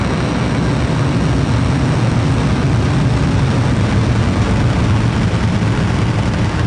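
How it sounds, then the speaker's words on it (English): A SpaceX Falcon rocket carrying Maxar satellites roars at liftoff, a steady, loud, broadband rumble with heavy low end that holds unbroken from start to finish, no voices heard. "T-minus 10, 9, 8, 7, 6, 5, 4, 3, 2, 1. Liftoff."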